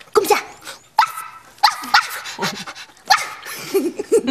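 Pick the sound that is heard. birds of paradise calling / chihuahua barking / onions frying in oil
chihuahua barking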